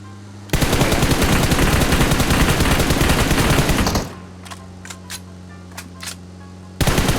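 Automatic gunfire in the mobile game PUBG Mobile, a dense sustained burst of rapid shots for several seconds, then a few sparse single shots, then another burst starting.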